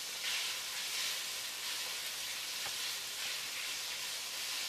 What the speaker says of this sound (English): I'm going to saute this until it gets translucent almost.